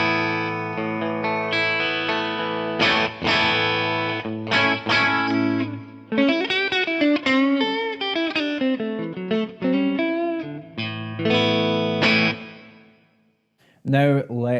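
Clean electric guitar through a Bogner Shiva amp preset with light compression and hall reverb, playing a melodic sequence of chords and single notes with ringing sustain and spacious reverb tails, ending on a brief trailing chord; no talking.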